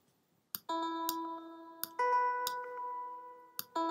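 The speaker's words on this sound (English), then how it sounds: "I ended up selecting, believe it or not, a clavinet sound." A clavinet patch on a Yamaha MODX synthesizer plays a few plucked, bright keyboard notes and chords with sharp percussive attacks, sustained briefly between strikes, alone and fairly clear.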